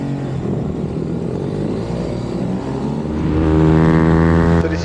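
Small-capacity minibike pitbike engines race at Stretton Circuit during a 2023 championship round, a loud continuous high-pitched buzz that climbs in pitch as the bikes accelerate, swelling louder toward the end with no talk.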